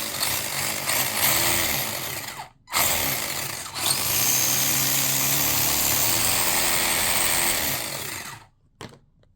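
A club-racing RC car's drive belt whirring loudly at high revs, a harsh buzzing drone that cuts out briefly twice and then stops near the end.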